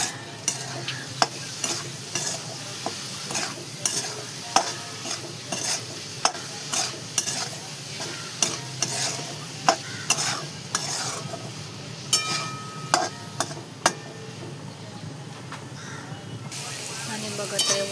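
Soybeans frying in a pan with masala and salt, a steady sizzle under frequent clinks and scrapes of a spoon stirring, close up, with no one talking.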